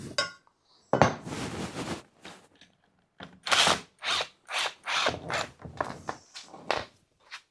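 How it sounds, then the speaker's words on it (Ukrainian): Wrench loosening bolts on the gearbox of a mower attachment for a walk-behind tractor, heard as separate close bursts of metallic ratcheting and scraping with short pauses between strokes. "Відкручуємо 4 гвинти."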